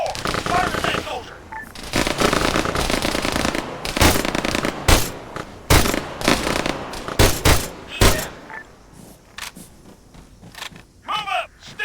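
Loud, close gunfire in the military shooter game Arma 3 crackles in rapid bursts and sharp single shots, with voices heard between the volleys and quieter gaps near the end.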